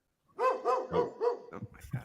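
A dog-bark sound effect: four sharp, evenly spaced barks in quick succession, followed by a few shorter, softer yips, all close and clear without talk.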